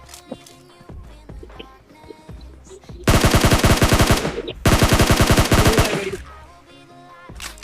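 Automatic gunfire in a battle royale shooter video game, with two long, loud, rapid bursts of shots separated by a short pause, following quieter scattered game sounds.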